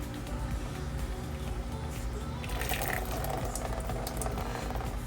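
Water squeezed out of killifish spawning mops by hand, dripping and splashing into a tub below in a fish room, a steady wet trickling and spattering that runs through the whole stretch, close by with no talk.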